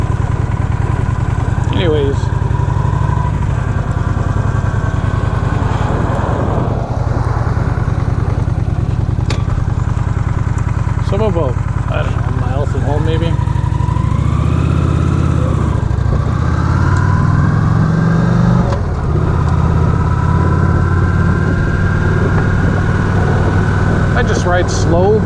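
A Honda Aero scooter engine running while riding, a continuous low drone that rises and falls with throttle, heard up close under steady wind and someone talking throughout.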